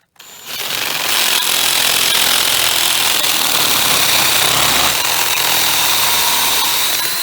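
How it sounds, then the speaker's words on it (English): A power drill fitted with a special bit bores out a hole while dealing with carpenter bees, a loud, steady whine that spins up quickly and holds without a break, close to the mic. "And so I'm gonna drill this hole out."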